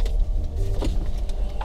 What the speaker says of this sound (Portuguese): Inclusive meu carro tá fazendo zoadinha no motor, tá?